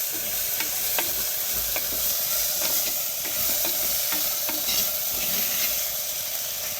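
Soaked black chickpeas frying with onion and tomato in a village home kitchen, a constant hissing sizzle with periodic spoon scrapes and taps against the pan, fairly loud and close.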